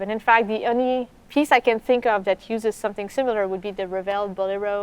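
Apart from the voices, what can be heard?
None of the usual background noises is heard.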